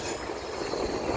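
A freight train passes on the Dundas Subdivision near London, Ontario, making a steady, loud rolling rumble with a bright wheel hiss. It is close and continuous, with no talk over it.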